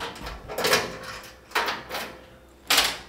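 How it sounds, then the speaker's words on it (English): Keys work the lock on the door of a Thunder Laser Nova 35 laser cutter, producing three distinct metallic clicks and rattles, close and fairly quiet. "using my set of keys, I'm going to unlock this door."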